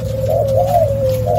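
A caged pair of doves cooing in a steady, soft, close warble that rises and falls continuously, with a low hum beneath and no talking.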